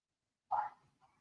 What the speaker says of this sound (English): if you hear the dogs in the background,